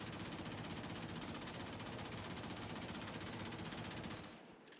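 Twin Grakatas pistols in a video game empty a magazine in one unbroken, rapid machine-gun stream of evenly spaced shots lasting about four seconds, then cut off abruptly into near silence.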